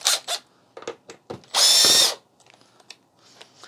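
Power drill unscrewing screws from a large 4K TV being scrapped for parts: one loud half-second whir up close, surrounded by quieter clicks and handling noises.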